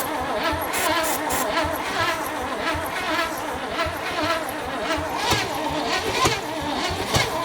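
A 1957 Chevy V8 cranks over continuously while trying to fire, a steady close rough churning with a few sharper bursts, coming back to life after more than 40 years of sitting.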